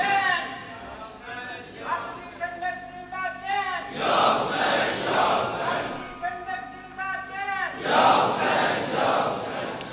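A large crowd at a religious gathering about Imam Hussain and Karbala chants slogans together in loud, rhythmic bursts, swelling in repeated waves with a leading voice calling out between them.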